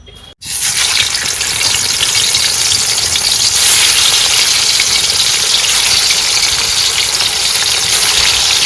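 Fish fries in hot oil in a pan, a loud, dense, continuous sizzle that starts abruptly after a brief quiet moment and holds steady to the end with no talk over it.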